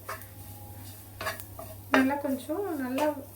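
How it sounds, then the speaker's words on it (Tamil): A utensil scrapes and clinks against a pan as ingredients fry crisp in a little oil for temple-style puliyodharai spice powder, with a soft sizzle underneath. Someone talks over the cooking. "எண்ணெயிலே நல்லா முறுமுறுன்னு வறுத்து எடுக்கணும்"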